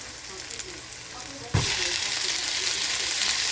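Caramelized onions and garlic fizz quietly in a pan for a moment, then tomatoes drop in and the sizzle jumps to a loud, steady hiss that holds to the end, for a Filipino Ilokano-style chicken pork apritada.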